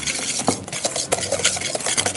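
Butter and sugar are whisked together in a bowl for a cake batter, producing close, uneven scraping and clinking strokes in a quick rhythm, with no talking.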